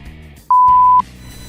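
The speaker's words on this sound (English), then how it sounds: "We're beeping that one, aren't we, Tony?" A single sharp censor beep, a pure steady tone lasting about half a second, cuts loudly over a name during a football podcast, with quiet room sound on either side.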